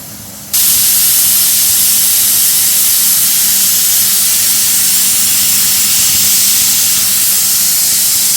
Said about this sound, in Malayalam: രണ്ട് വിസിലൊക്കെ വന്ന് നമ്മുടെ കുക്കർ മാറ്റി വെച്ചു